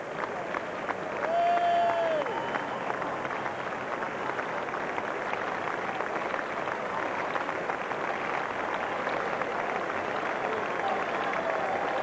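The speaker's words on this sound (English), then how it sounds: "the crowd are really applauding now" A racecourse crowd applauds a horse at the 2001 Whitbread Gold Cup, sustained clapping and crowd noise spread wide and steady, with a commentator's voice speaking over it.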